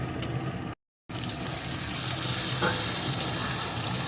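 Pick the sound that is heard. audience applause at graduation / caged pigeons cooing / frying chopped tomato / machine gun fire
frying chopped tomato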